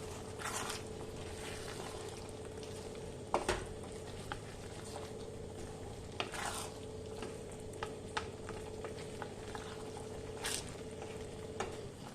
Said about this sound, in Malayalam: അതിന് ഇതൊന്ന് ഇളക്കി കൊടുക്കാം